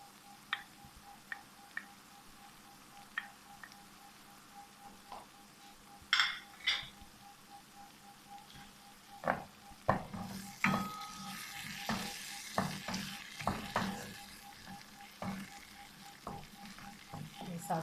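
Chopped ginger and garlic land in a pan of frying masala for chicken jalfrezi, bringing rising sizzling and frying hiss along with stirring, spoon clatter and scraping against the pot. No one speaks.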